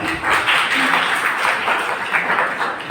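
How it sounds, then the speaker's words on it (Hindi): An audience at a college poetry recitation event claps in a dense, steady burst of applause, moderately loud and filling the whole moment without pause. "एक बार फिर से तालियां जीनत के लिए"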